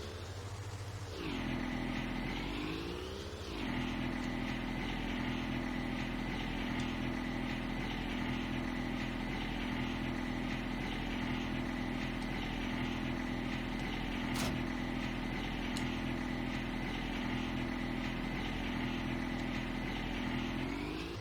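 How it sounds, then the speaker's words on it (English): A small John Deere lawn tractor engine in Farming Simulator 19, with a brief swell in pitch at the start before it settles into a constant, close, monotonous drone that runs without a break. "The small new John Deere lawn tractor is pretty neat here."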